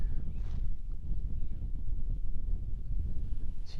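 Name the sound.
strong chilly wind blowing against the microphone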